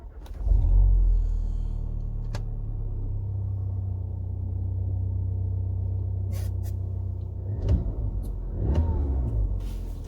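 Audi S3 fitted with a new stage 2 Integrated Engineering downpipe starting up: a quick crank and catch, then a deep, steady, throaty idle rumble up close, with a couple of brief blips near the end.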